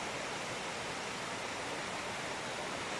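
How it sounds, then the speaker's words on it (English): A small waterfall pours into a pool beneath a bridge, a steady, even rush of falling water at moderate distance with no other sounds. "A little waterfall going down into it."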